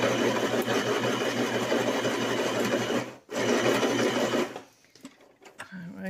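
A sewing machine stitches a loose page of a ring-binder junk journal, running as a loud steady whirring drone for about three seconds, briefly stopping, then running again before fading into quieter handling noises and faint talk.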